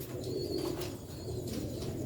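Sialkoti chhat pigeons cooing in a low, steady rolling murmur, with a brief wing flutter and a faint high chirp over continuous background noise.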